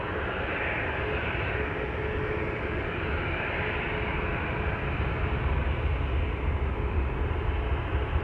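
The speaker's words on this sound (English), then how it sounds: "This is a 737-800 to Rome." A KLM Boeing 737-800 taking off from Amsterdam Schiphol for Rome, its jet engines a sustained powerful roar with deep rumble building slightly near the end.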